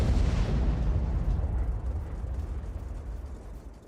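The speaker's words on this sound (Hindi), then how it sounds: "ज़पोरिज्जिया में यूक्रेनी सेना के ठिकानों पर बमबारी" Aerial bombing of Ukrainian army positions in Zaporizhzhia sets off a loud, deep blast that rolls into a long rumbling decay over about four seconds, with no voices.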